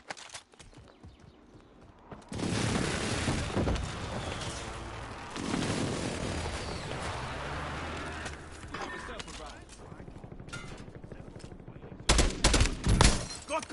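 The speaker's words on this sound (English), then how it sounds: "Enemy precision airstrike" Precision airstrike explosions in the Warzone battle royale video game, a sustained barrage of loud blasts and rumbling booms lasting about ten seconds, with fresh heavy impacts at the end and voices speaking over it.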